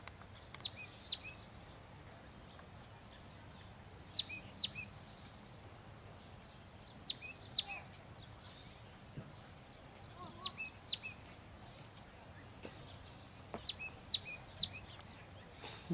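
Small birds chirp and tweet in a park with grass and sports courts, short bursts of bright calls recurring every few seconds at moderate distance over a low outdoor hum.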